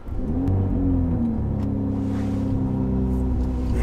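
A 2020 BMW M340i engine fires up with a quick rising rev before settling into a steady, smooth idle, heard close and alone with no talk.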